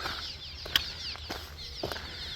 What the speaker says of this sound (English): Besieged by birds.